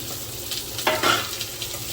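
Chopped onion sautéing in a pan for a tomato kotsu side dish, giving a close sizzle with a brief burst of stirring and scraping midway.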